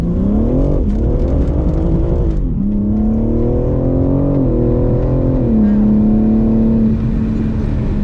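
A BMW M3 accelerates hard on the Goodwood race track, its engine note rising steadily and droning loud and close through the whole stretch, with a brief dip as it shifts.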